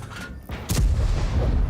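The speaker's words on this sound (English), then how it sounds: "Waffentrager Panzer IV just got blown away there by not only Bolognese but also the T-54" A Waffentrager Panzer IV is shot and destroyed in a World of Tanks tier 10 battle: a deep, booming cannon blast and explosion rumble in quick succession, loud and close, amid continuous battle noise.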